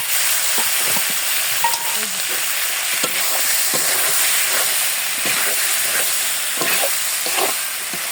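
Loud, steady sizzling of lightly fried potatoes added to cooked-down spices in a pan, with occasional scrapes and knocks of stirring, close by and continuous throughout.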